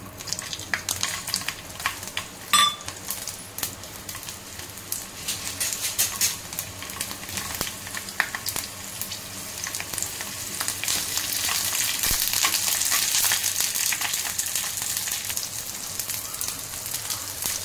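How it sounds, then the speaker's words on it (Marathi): Peanuts and chillies roast in hot oil in a pan with a steady, close hiss and crackle that swells louder and denser toward the end, with occasional sharper pops and scrapes. "शेंगदाणे मिरच्या आपल्याला तेलामध्ये भाजून घ्यायचे आहे"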